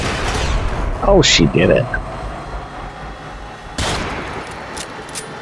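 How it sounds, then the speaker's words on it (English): AutoMag pistol gunfire in the video game Fallout 4: a couple of sharp, loud shots with short echoing tails among steady game ambience, with someone talking over the start. "Let's shoot that till it's gone."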